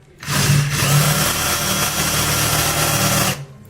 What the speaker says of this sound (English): if you're going to drill carbon fibre, wear a dust mask